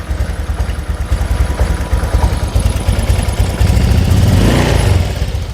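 Honda Vario 125/150 scooter engine with a fault that makes it stutter at low rpm, idling with a rapid popping putter, then revved with the throttle into a louder, rising buzz before dropping back, close by.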